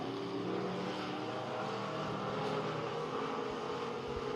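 Race cars running laps on the Big O Speedway track during a regular race program, a steady blended engine roar at middle distance, continuous and fairly loud with no talk.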